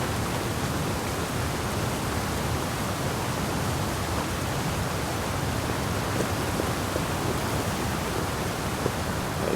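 A waterfall rushes in the video game Assassin's Creed Valhalla, a loud, broad, continuous roar of falling water with no change throughout and no voices.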